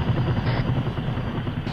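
A helicopter flies in ARMA III during a behind-enemy-lines operation, its steady low rotor thump continuous and fairly loud throughout, with no speech over it.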